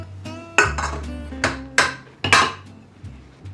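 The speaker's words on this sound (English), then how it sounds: "we're just gonna mix this up lightly until it's combined" Icing sugar and cocoa powder stirred in a bowl for flourless chocolate cookies, a handful of distinct clinks and scrapes of utensil against the bowl, fairly close, with no talking.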